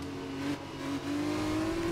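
A Formula 2 race car in the F1 2021 racing game holds a steady, droning engine note that climbs gradually in pitch as it accelerates, with a brief dip around a gear change midway; no talking.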